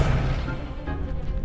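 A spell blast fired in the Hogwarts Legacy video game during dueling practice, a single dense booming burst that swells at once and then rumbles on at steady loudness, with no talk.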